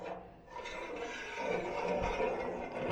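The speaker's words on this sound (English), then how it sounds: "we can now put in the auger" A metal auger sliding and scraping into the feed tube of a restored Pit Boss pellet smoker, giving a steady close rasping rub that swells midway, with a dull knock partway through and no talking.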